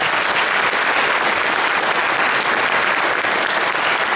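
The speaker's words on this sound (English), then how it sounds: "Give yourselves a round of applause for this." Middle school audience applauding at a Christmas concert, a loud continuous wash of many hands clapping, full and even from start to finish with no speech over it.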